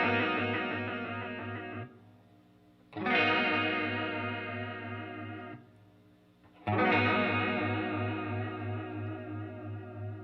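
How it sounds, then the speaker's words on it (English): A Walrus Slotva chorus pedal with its depth turned up, colouring sustained guitar chords with a wide, wobbling modulation; three long ringing strums separated by brief decays, with no talking over them. "So you'll notice right away the modulation gets a little bit more exaggerated with those triangle and square shapes."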